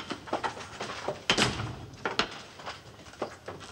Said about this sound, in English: Shut the doors.